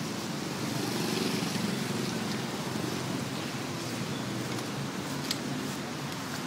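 Steady rain falling across a wide outdoor area in Skudai, Johor, a dense continuous hiss with broadband wash and a low rumble that may include passing traffic, holding evenly throughout without pauses.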